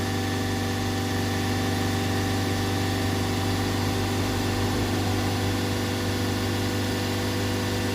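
A Ford Transit Custom 2.2 diesel van engine with a repeated DPF and MAF fault idles steadily and loudly nearby, a constant low rumble with a droning hum that never changes pace, with no voices.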